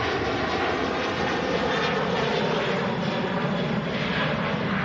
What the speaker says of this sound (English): Really nice rotation and departure there from the 330.